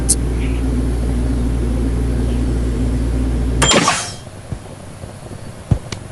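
An in-game cooking machine makes a bagel with sugar into a donut. A loud, steady electronic hum runs, then a bright chime sounds as it stops, followed by quieter clicks.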